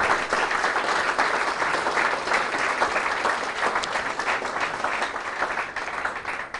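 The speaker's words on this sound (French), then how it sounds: "pour les féliciter, on peut même les applaudir" Audience applause after a talk on trees in the production chain, a dense, steady patter of many hands clapping at moderate loudness, easing slightly toward the end.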